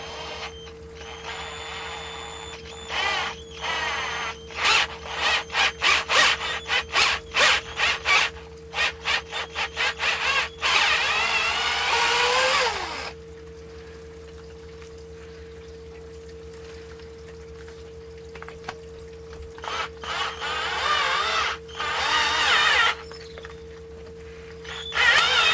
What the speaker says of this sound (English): use a small drill bit and gradually work your way up